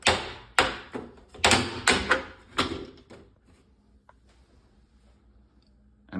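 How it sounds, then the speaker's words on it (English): A wall-mounted heating and cooling unit's door is pushed shut with a quick run of sharp knocks and clicks over about three seconds, then fades to a low steady hum with one faint tick. "Go ahead and close the door."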